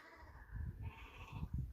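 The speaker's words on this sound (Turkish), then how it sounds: "Biz şu anda kuzularımızı anneleriyle buluşturacağız." Lambs and their mothers bleat as they are reunited on a farm, a few drawn-out cries layered over low rumbling handling noise nearby.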